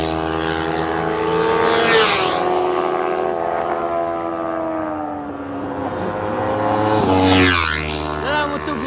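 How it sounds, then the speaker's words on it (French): A 300cc motorcycle on the Lédenon race track roars past with rising and falling engine pitch, loud passes peaking near the start and again toward the end, with a steady engine drone in between. "Là la moto que vous venez d'entendre c'est une 300."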